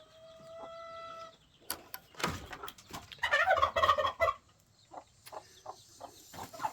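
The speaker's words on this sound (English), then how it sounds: "the other 5 baby chicks are back there in the corner" A hen and her baby chicks on a homestead cluck and chirp in short, irregular bursts, nearby, with a louder run of clucking in the middle and scattered soft peeps around it.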